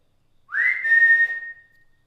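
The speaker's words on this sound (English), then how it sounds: "If I whistle, can you whistle?" A single rising whistle from a person, sliding up and holding a steady clear note for about a second before fading out, alone in a quiet room of a reputedly haunted old infirmary.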